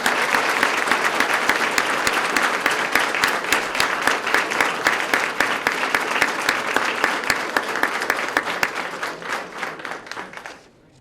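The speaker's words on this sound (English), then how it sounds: "If you guys would give them a round of applause." Sustained, dense applause from a ceremony audience honoring newly sworn-in police officers, loud and steady for about ten seconds before tapering off abruptly at the end.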